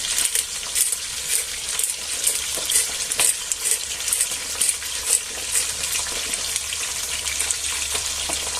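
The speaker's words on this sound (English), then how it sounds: "we'll leave it there to fry off, browning it off" Chicken pieces fry in a hot pan for Spanish garlic chicken, a loud, steady sizzle close by with crackling pops throughout and no talking.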